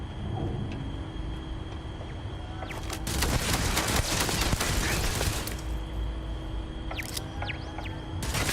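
Automatic gunfire in Starfield as a magazine is emptied: a dense, loud burst of rapid shots running for several seconds against steady background hum, followed by a couple of sharp isolated cracks.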